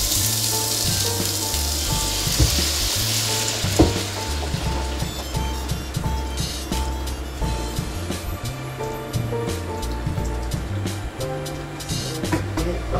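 Onion and broth for katsudon sizzling and bubbling in a hot pan, a steady close frying hiss with scattered pops and clinks throughout.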